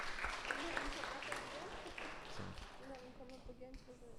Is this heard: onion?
no